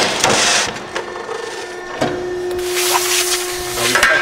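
A used Piranha hydraulic metal-cutting power shear, 1/4 inch by 10 foot, with hydraulic hold-downs slicing sheet metal in a shop, giving loud grinding, screeching cuts with a sharp clunk partway through.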